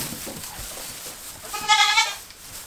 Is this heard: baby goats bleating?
yes